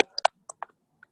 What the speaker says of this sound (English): Somebody's typing, can you mute yourself?